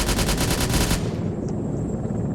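20mm cannon firing at enemy targets around a town in Arma 3, a rapid burst of about eight loud, heavy shots in steady rhythm that stops abruptly, leaving a fading echo.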